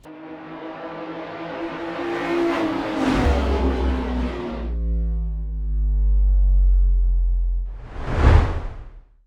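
A car pulls away and accelerates, its engine rising in a sweeping whoosh before the rumble settles into a low steady drone, followed by a short loud passing swoosh near the end, with no voices.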